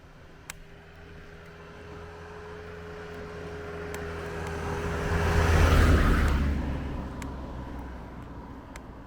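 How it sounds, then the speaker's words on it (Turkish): A single car approaches and passes by on a quiet rural road on Turkey's Black Sea coast, its engine and tire noise swelling to a peak and then fading away. "Nadiren araba geçiyor zaten bu yollarda."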